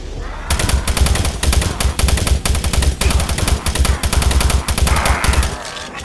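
Weapon fire in the Doom 3 video game against a Revenant: loud, rapid automatic shots hammer continuously for several seconds with little pause.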